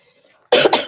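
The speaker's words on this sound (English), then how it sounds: "I try not to react to that cough" After half a second of near silence, one loud, close cough bursts out in a deposition room, with a quick second huff following.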